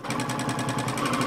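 A sewing machine running a straight stitch through organza fabric, with a steady, rapid mechanical chatter that keeps an even rhythm throughout and stays close and moderately loud.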